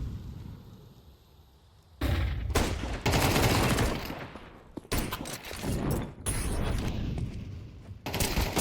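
Loud rapid gunfire bursts from a Counter-Strike match, starting after a quiet opening and continuing in dense volleys with brief gaps, punctuated by sharp pops that may be explosions.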